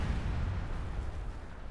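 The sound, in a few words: gunfire and explosions in the World in Conflict video game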